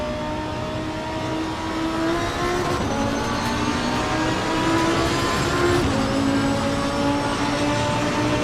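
A GT2 racing car engine in Assetto Corsa Competizione drones steadily at the Red Bull Ring with shifting harmonic whine, loud and continuous throughout, with no talking.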